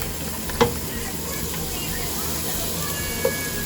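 Garlic cloves sauté with translucent onions in a pan for a spicy bolognese lasagna sauce, a constant close sizzle and hiss with two sharp utensil clinks.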